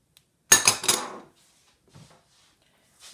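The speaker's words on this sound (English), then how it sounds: "I'm going to mix this into a paste" A spoon scrapes and clinks against a bowl while green seasoning is mixed into a paste for fish: a quick burst of metallic clatter, then two faint taps after a pause.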